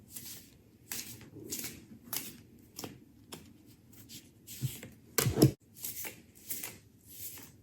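Cards are riffled and shuffled repeatedly in short bursts, crisp and close, with one louder flurry near the end.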